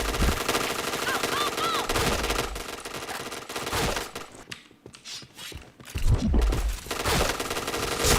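Rapid automatic gunfire from a shooter video game rattles in dense continuous bursts, briefly dropping away mid-clip before the firing resumes, with faint voices under the shooting.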